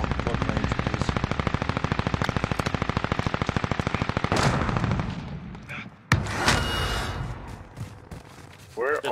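Gunfire in Call of Duty Warzone 2.0: a long, rapid, even burst of loud automatic shots, then a single sharp crack and a quieter stretch of background game sound.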